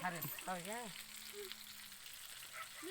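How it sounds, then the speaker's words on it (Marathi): Fish frying in a pan gives a soft, steady sizzle in the background of a home kitchen, with faint voices and brief tonal sounds over it. "इकडं बघा मच्छी आज उतळाय चालूच आहे"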